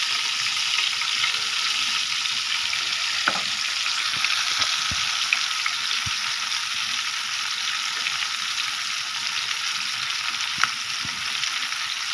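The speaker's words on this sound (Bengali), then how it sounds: "এই তো এখান দিয়ে মাছ ভাজতেছি" Fish fries in a pan with a constant bright sizzle and spatter, close and even for the whole stretch, with a few faint clicks and knocks beneath and no voices.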